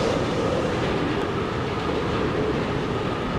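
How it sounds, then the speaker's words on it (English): A moving train in the video game Forgotten Anne gives a steady, loud, continuous rumble of wheels and carriages that carries through without a break or any talk. "I get on top of a moving train."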